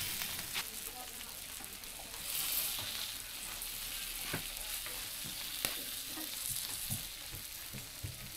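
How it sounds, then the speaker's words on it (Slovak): Chicken grilling on a public park barbecue grill gives a steady, close sizzle with scattered sharp crackles and pops throughout, and no one speaks. "Ja tu varím trochu zemiakov a Duka grilluje kura."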